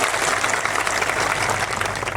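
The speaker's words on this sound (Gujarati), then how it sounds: "તાળીઓ પાડી લો." Crowd at a public rally applauding for the police personnel on duty, steady dense clapping sustained throughout without pause.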